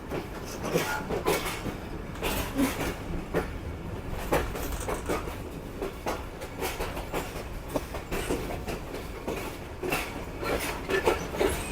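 Another train rushing past on the Lahore–Hasan Abdal line, a steady roar of passing carriages broken by rapid clickety-clack wheel beats and rattles, heard close up from aboard a moving train for the whole stretch.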